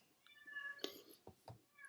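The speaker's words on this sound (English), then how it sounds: "She's walking around meowing, wanting attention" A house cat walks around meowing for attention, several short soft meows in a quiet indoor room, fairly close, with no talking.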